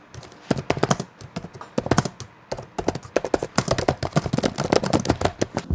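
Bursts of clicky key presses on an MSI GF63 budget gaming laptop keyboard with large, well-spaced keys, typed in quick irregular runs with short pauses, close and fairly loud, no voices.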